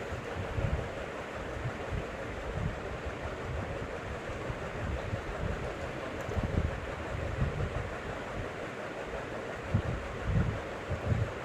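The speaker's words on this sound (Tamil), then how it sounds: "எண்ணெய் ஊற்றிட்டு கடுகு போட்டு கடலைப்பருப்பு உளுத்தம்பருப்பு போட்டு ஃப்ரை" Mustard seeds, chana dal and urad dal fry in oil in a kadai, giving a steady close sizzle with soft crackles and occasional pops throughout.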